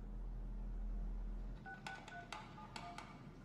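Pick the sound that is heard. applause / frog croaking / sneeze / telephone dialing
telephone dialing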